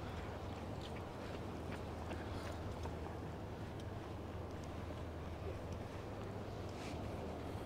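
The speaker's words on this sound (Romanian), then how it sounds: "Asta este barca de poliție" Boat engine and water on the River Thames in London, a police boat out on training runs, heard as a steady low rumble and wash with wind buffeting the microphone throughout, no talk.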